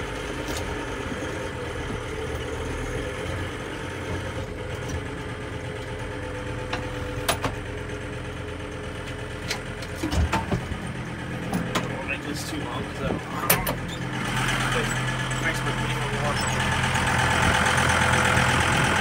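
A 2006 John Deere 5325 tractor engine idling with a steady low drone, heard from inside the cab with a few clicks and knocks and a swell toward the end.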